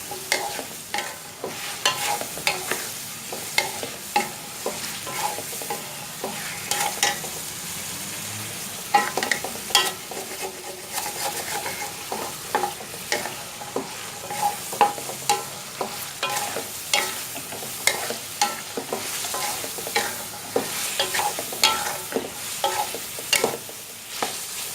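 A chickpea and chicken mixture with green chillies and coriander frying for Lahori murgh cholay, with a continuous sizzle under busy, rhythmic scraping and clanking of a spoon against the pan, no voices.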